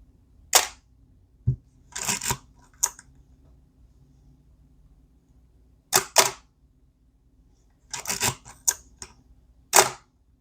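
Minolta XG-9 film camera in bulb mode, its shutter firing in a series of sharp mechanical clicks and clacks, some in quick pairs, close and crisp against a quiet room.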